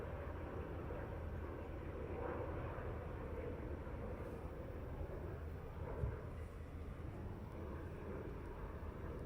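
Jet airliner departing Heathrow runway 09R and banking around overhead, a steady broad engine roar at moderate distance that holds throughout without voices.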